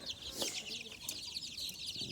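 Chickens and young chicks in a brooder box cluck and chirp together close by, a busy overlapping chatter of soft clucks and high peeps with no talk.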